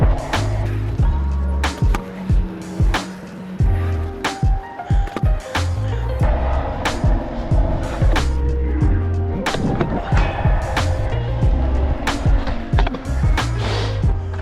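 Wheels of a scooter with an Apex 6 wide deck rolling loudly and close on hard ground, broken by repeated sharp clacks and bangs as tricks and overheads land across a long run.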